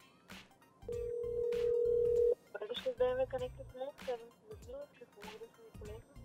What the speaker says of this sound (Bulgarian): Избираме я, звъни.